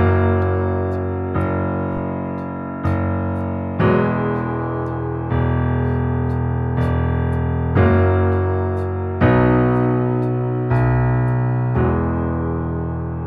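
Solo piano playing the intro and verse of a pop song, sustained chords changing every second or two with ringing notes over held bass, close and clear with no talking.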